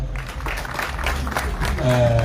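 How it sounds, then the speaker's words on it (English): Applause from an audience at a formal ceremony fills the room as a steady wash of clapping, and a voice starts speaking over it near the end. "Can you clap for him?"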